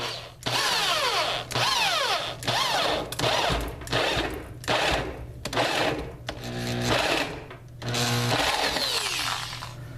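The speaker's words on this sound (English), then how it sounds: "And that is the end of drilling" Power drill boring holes into a box mod enclosure for an SX350J dual-18650 build, with repeated loud whining bursts separated by short pauses, close up and without talk.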